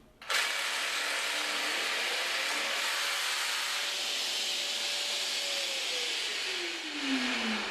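Festool PSB 420 EBQ jigsaw running as it cuts laminate material, starting abruptly into a steady loud whirring drone with a rising then falling pitch as the blade works through, close and alone.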